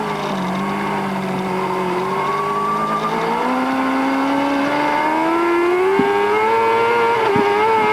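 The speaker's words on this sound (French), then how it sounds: "Toujours cette caméra embarquée sur la moto de Yanagawa, la Kawasaki numéro 4." A Kawasaki superbike races on a circuit, caught by an onboard camera, its engine a loud continuous whine that rises steadily in pitch as it accelerates, with brief shift dips near the end.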